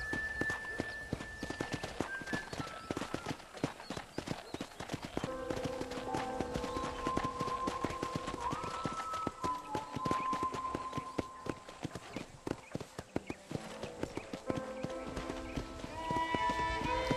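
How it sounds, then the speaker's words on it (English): Horse hooves clip-clop in a steady, rapid rhythm throughout in the video game Red Dead Redemption, with soft music tones playing underneath. "let's see if you can still ride a horse"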